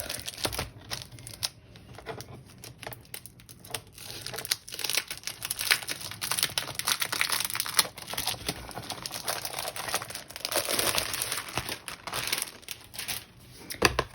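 A thick 30 by 30 cm pack of 210 gsm decorative craft paper, still sealed, is handled and rustled: steady, close crinkling and crackling with sharp bursts throughout, no voices.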